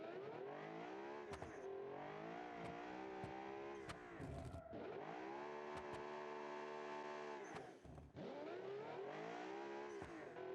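Turbocharged V10 coupe engine revving hard, its pitch climbing and dropping through repeated surges with brief sharp breaks between gear changes, loud and sustained.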